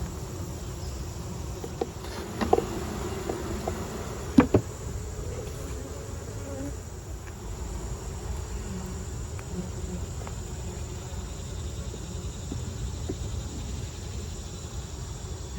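Honey bees buzzing in an opened beehive, a steady low hum that swarms continuously for the whole stretch, fairly quiet, with a few soft knocks and clicks from handling the hive frames.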